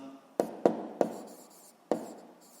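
Pen writing on paper, four distinct tapping strokes with short scratchy trails, close and quiet.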